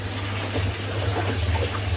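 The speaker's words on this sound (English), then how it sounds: "this is where the water from the fish tank leaves from the fish tank and enters inside the tank" Water from a fish tank pouring into a radial flow filter on an aquaponic farm, a steady close gushing and splashing flow with a low rumble throughout.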